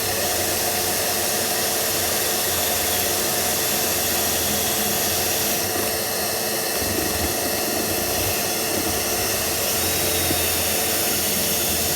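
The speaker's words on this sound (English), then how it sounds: "what you want to have is the old vacuum ready" A vacuum cleaner runs continuously while a sash mortise lock is being fitted, a loud, steady airy whine and hiss that holds for the full stretch with only slight shifts in tone.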